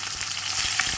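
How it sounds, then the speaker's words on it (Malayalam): Carrots fry in a pan on high heat with a short burst of close, steady sizzling hiss and a few faint stirring clicks. "അപ്പോൾ നമുക്ക് അടുത്തത് ക്യാരറ്റ് ഇതുപോലെ തന്നെ ഫ്രൈ ചെയ്ത് എടുക്കാം."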